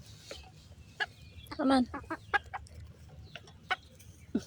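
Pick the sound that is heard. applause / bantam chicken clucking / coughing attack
bantam chicken clucking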